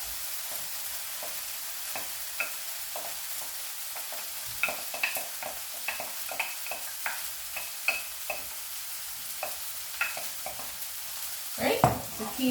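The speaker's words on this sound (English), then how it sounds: "Right, the quinoa in and stir again." Cooked quinoa stirred in a frying pan with vegetables and tofu: a soft, steady sizzle with scattered scraping and clinking strokes from the spoon, and a louder clatter near the end.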